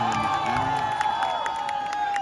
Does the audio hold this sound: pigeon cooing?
no